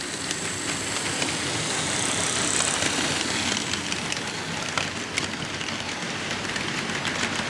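An Athearn CP AC4400 HO-scale model locomotive, freshly repaired and lubricated, hauls a train of tanker cars on its first run, giving a steady, continuous running noise with a faint rail rumble throughout and no talk.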